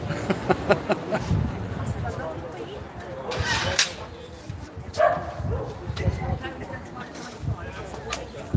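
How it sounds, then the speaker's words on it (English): A lively dog barks in short sharp bursts, several yaps early on and more scattered later, heard under someone talking outdoors. "My mate's dog's quite lively this morning."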